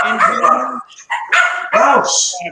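Several dogs bark close by in a loud, uneven burst of sharp barks and higher yips, with brief gaps between them and no talking.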